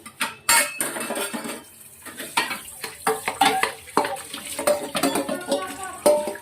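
A lid goes onto a pressure cooker of rice with a run of metallic clanks, scrapes and rattles, irregular and close, with a few louder knocks scattered through.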